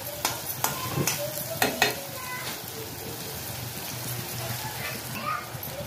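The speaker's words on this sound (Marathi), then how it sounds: "आता ना कांदा आपण भाजून घेणार आहोत तेलामध्ये" Onion frying in hot oil for kantoli bhaji, a continuous soft sizzle with a few sharp spoon scrapes against the pan early on, close and moderately loud, with brief background voices.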